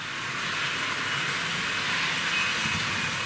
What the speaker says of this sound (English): really heavy Wrenn loco making its way around the layout now on the top speed setting, and it's done a complete loop